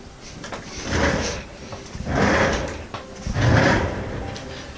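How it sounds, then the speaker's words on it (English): A chair shifted and dragged across the floor indoors in three scraping, rumbling movements, each lasting under a second and fairly close, with brief gaps of room quiet between them. "Had to move my chair for that last bit."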